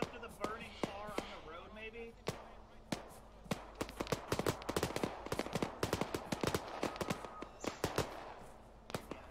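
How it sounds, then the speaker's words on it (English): Sharp gunshots crack in irregular bursts, some close and loud, others scattered, while someone speaks briefly at the start. "We got gunfire to our left, Rick."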